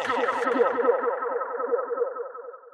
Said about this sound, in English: and lush delay types